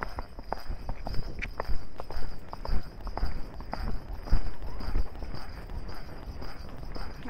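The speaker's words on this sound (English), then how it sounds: "Wanna try to canter a little bit?" A horse cantering on a park trail, its hooves thudding in a quick, uneven rhythm close by over outdoor background noise.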